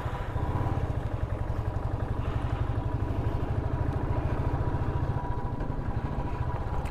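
A motorcycle carrying two riders labours uphill on a road toward Pumdikot, its engine chugging in a steady, rapid low beat, close and moderately quiet, with no talk.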